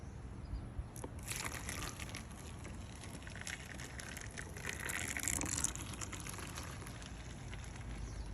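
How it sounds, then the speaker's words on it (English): Dechlorinated water pours onto soil in a springtail culture, a faint, continuous trickling and gushing close by that swells briefly before easing, with no talking. "And then I'm going to try to pour some of that water into here."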